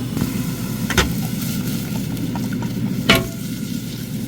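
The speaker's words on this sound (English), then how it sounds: "I'm going to go ahead and add the onion. And I'm going to cook those until they're clear." Onions cook in a pot with a steady sizzle, loud and close, broken by a couple of sharp scraping stir strokes.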